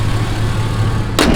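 Idling engine of a 2004 Chevrolet Silverado 1500 extended cab fitted with an aftermarket cold air intake, a steady low drone throughout with a sharper burst near the end.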